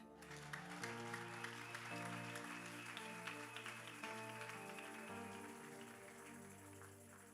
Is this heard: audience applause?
yes